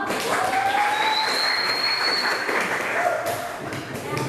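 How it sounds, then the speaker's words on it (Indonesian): Students in a classroom applaud a group, a steady wash of clapping hands that runs continuously for several seconds with faint voices and a whistle-like tone mixed in. "Tepuk tangan lagi dong."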